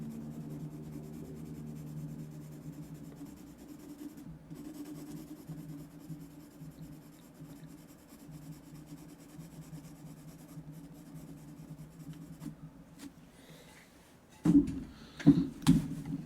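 A pencil lightly shades over a drawn sphere with soft, continuous scratching strokes at close range and low volume, ending in a few louder bumps and rubs.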